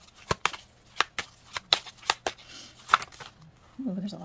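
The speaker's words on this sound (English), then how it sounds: "I'm going to shuffle again." Tarot cards being shuffled by hand, a series of sharp, close riffling snaps at an uneven rhythm, followed by a voice speaking at the end.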